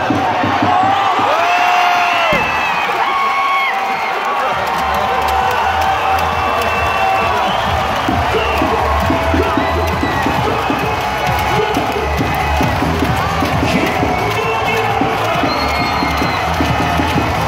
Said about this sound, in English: Tigers just shot a goal, scored a goal, and the crowd went wild.